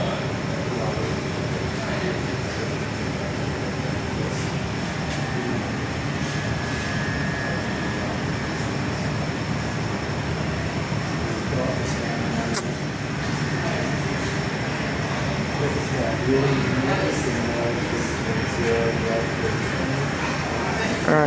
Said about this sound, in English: There's another Rex coming in from Esperance. Type of plane once again is a Saab 340B.